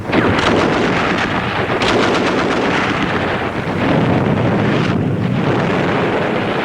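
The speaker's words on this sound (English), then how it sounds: "They've got a crossfire going. One machine gun on one side of the street and another machine gun on the other side." Machine-gun crossfire in the battle of Iwo Jima down a street, loud dense rattling bursts blending with heavy rumbling noise and wind-like roar, continuous and harsh throughout.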